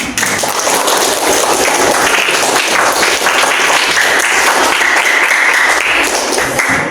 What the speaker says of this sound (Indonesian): tepuk tangan buat Ihsan